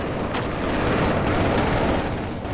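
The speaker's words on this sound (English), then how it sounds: "They're shooting through the walls." Gunfire tearing through building walls in the video game Project Reality, in a Falklands assault on Goose Green: heavy, booming shots and rumbling impacts blur into a loud, continuous roar.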